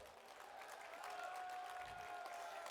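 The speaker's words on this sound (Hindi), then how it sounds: "इन नौजवानों का भी ताली बजा करके सम्मान करो।" An audience claps in steady, continuous applause at a religious discourse about cow protection, a dense wash of clapping that holds at an even level throughout.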